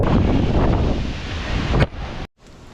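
Strong gusty typhoon wind, from Typhoon Uwan, buffets the microphone in a loud, continuous roar, then cuts out abruptly near the end before resuming more softly.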